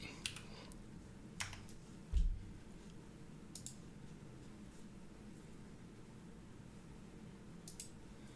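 Keyboard typing done one-handed during a live stream, sparse irregular clicks and taps with a brief louder thump, faint against a quiet background and no speech.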